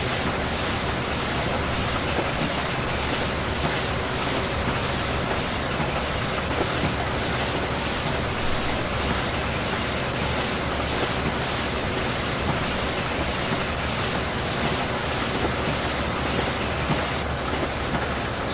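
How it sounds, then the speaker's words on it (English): The biggest tractor in Farming Simulator 2015, its engine giving a loud, continuous rumbling drone with a hissing, rushing layer, steady and unbroken from start to finish. "This is our biggest tractor."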